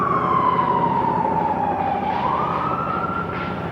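An emergency vehicle siren wails loudly and close, its pitch sliding down and then rising again in one long sweep, with no voices over it.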